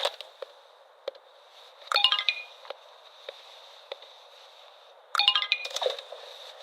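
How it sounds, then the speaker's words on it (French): A computer rings in a scene from a teen vampire TV series. Two bursts of quick, bright rising chimes ring out over a faint steady electronic tone, with scattered light clicks between them and no talking. "Daisy, il y a ton ordinateur qui sonne"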